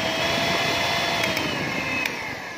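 An electric mixer whips egg whites and sugar with a continuous, even whirring drone from start to finish, close and moderately loud, with a few faint clicks and no talking.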